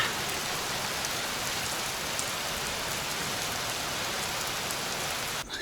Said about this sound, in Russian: К сожалению, дождь не дает нам работать